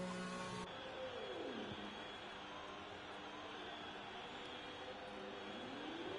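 Race car engine in the F1 2020 video game at the Hungary circuit, a sustained high-pitched whine that drops sharply as the car slows for the pit lane, then climbs again, with a continuous layer of engine noise throughout.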